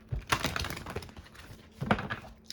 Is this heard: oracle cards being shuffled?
yes